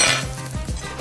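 Lentil filling with oregano and cumin being stirred in a pan, with a few soft scraping and clinking utensil strokes against the cookware, close and fairly quiet, with no voices.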